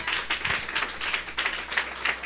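A church congregation applauds, a few seconds of moderately faint, rhythmic group clapping with bursts swelling and fading, no speech over it.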